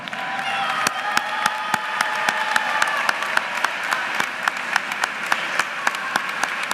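An audience at a university School of Education pre-commencement ceremony applauds the graduates: dense, steady clapping from a large crowd with a few sharper nearby claps standing out, lasting throughout with faint cheering.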